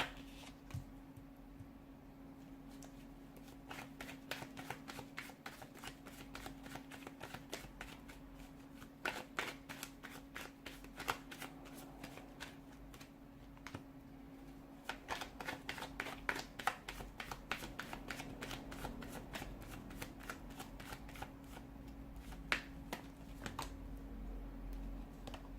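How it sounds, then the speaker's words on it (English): A deck of tarot cards is shuffled continuously and quietly, with steady riffling and flicking of cards repeating in uneven bursts, close up and without talk. "let's go ahead and give the cards a shuffle"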